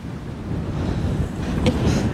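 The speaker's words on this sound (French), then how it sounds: "Il y a le vent qui vient de se lever d'une force, mais Julien est motivé" A strong wind rises in the Cafayate canyon in Argentina near water, a low, rumbling roar buffeting the microphone that swells slightly toward the end, with no voices.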